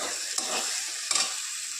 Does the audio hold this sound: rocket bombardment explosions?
no